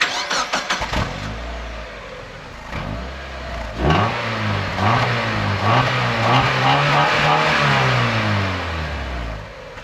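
A 1.8-litre Mk2 Mazda MX5 with a completely standard exhaust cranks and catches, then idles and revs repeatedly, its engine note rising and falling in loud, close sweeps with no talking.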